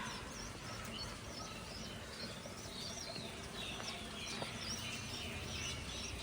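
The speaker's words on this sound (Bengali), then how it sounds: "এই যে সব পায়রা দেখতে পাচ্ছ" Birds chirping and fluttering nearby over a constant low hum, with occasional wingbeats and soft calls from pigeons in an enclosed loft.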